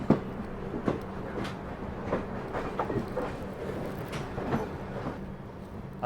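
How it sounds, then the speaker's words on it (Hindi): An Intercity Express hauled by a diesel locomotive rolls past at a crossing on the outskirts, with a continuous rattling rumble and repeated clickety-clack wheel beats over the rail joints, moderately close and without speech. "दिल्ली फजल का इंटरसिटी एक्सप्रेस डीजल लोकोमोटिव के साथ, ज़बरदस्त खूबसूरत क्रॉसिंग आउटर में।"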